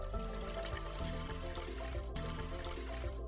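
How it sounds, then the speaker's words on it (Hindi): Water pours into a drum with a continuous trickling, splashing fill that stays steady and close throughout, with no talk heard. "मैं चाहूंगा कि तुम दोनों ड्रम में पानी डालो।"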